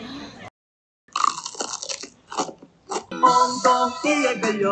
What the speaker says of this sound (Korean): 양념에 한번 입혀졌는데도 그 속이 바삭함이 식을 줄을 몰라요